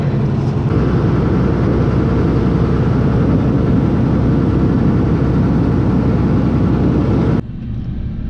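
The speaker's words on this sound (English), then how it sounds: "All right, I'm in the combine." A combine harvester engine at a milo harvest drones loudly and steadily up close, a constant low mechanical roar that drops abruptly to a quieter hum near the end, with no talking.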